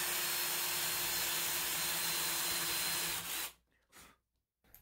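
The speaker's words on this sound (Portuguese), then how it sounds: "eu vou começar com uma broca 8, fazendo um rebaixo aqui de cerca de 7 milímetros" Power drill with an 8 mm bit boring a roughly 7 mm deep counterbore into wood, running as a loud, steady, close whine for about three seconds before stopping, followed by a couple of brief faint knocks.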